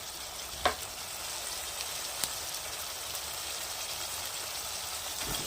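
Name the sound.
spice masala sizzling as it is sautéed in a pan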